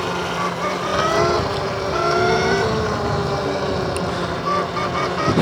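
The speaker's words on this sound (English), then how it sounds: "I love the sound of the motor." Motor of a HiKNIGHT GTX1 Mini electric dirt bike while riding, a continuous close whine with shifting tones that rises and falls steadily, with faint wind noise.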